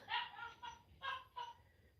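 Two pet dogs bark four times in a short, uneven run, each bark clear but fairly quiet and a little distant indoors.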